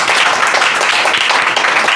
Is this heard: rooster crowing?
no